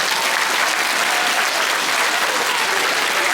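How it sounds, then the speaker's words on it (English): Dense, loud, sustained applause from parents and guests at a middle school awards day ceremony, an even wash of clapping throughout with no break. "Give them one more round of applause."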